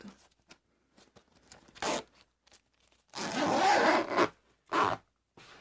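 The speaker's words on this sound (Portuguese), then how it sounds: "Porque senão o zíper não anda." A zipper on a handmade bag is pulled in short bursts, with several brief tugs followed by a longer, louder rasping run and another quick pull, close up with no talking.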